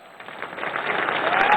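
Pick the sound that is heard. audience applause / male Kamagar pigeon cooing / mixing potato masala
audience applause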